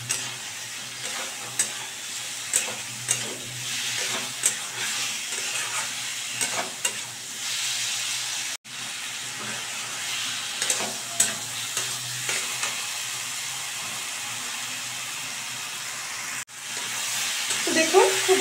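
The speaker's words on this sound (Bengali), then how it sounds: "তারপরে কিন্তু আমি ভালো করে কষিয়ে নিচ্ছি।" Fried gathi kochu taro and potato pieces cook in spices in a pan, a steady close sizzle broken by repeated scraping stirs and two brief pauses, with no voices.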